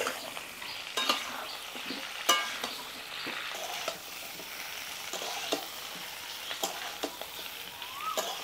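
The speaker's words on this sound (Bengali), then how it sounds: "আলুগুলো একটু ভাজা ভাজা করে টমেটোগুলো কেটে দিয়ে দেব।" Potatoes sizzle and fry in a pan for an aloo dum, with a steady crackle broken by repeated sharp scrapes and clinks of a spatula stirring against the metal, close and clear with no talking.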